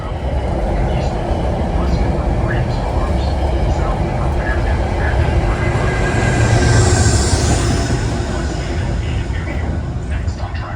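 Metro-North commuter train arriving at Harlem 125th Street station on a busy evening, a steady loud rumble of wheels and motors filling the platform throughout, with faint voices in the background.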